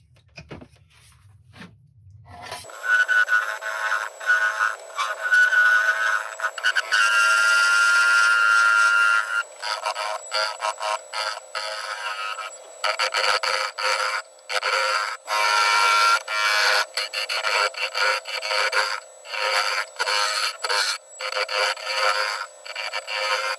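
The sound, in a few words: smoothing the sides of a wooden mushroom box on lathe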